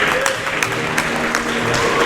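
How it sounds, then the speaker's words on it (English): Steady applause from a crowd at an ice hockey grand final, dense and continuous clapping filling the arena with a faint hum of crowd noise beneath. "we'll get the rounds of applause"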